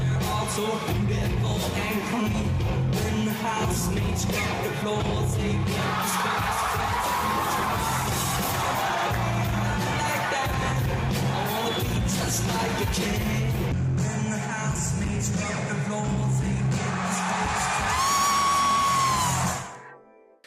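A crowd at a concert cheers and whoops loudly and continuously over the band's music, with the roar swelling near the end before cutting off abruptly.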